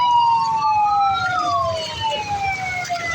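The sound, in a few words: ambulance and fire truck sirens in flooded traffic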